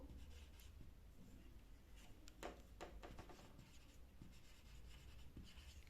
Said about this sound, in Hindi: अभी मैं ऐसे लिखूंगी